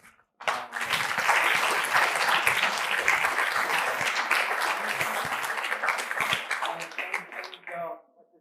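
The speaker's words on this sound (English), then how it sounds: "really deserves another round of applause" An audience breaks into loud applause for a speaker at a lecture event, starting abruptly, holding steady for about seven seconds, then fading out.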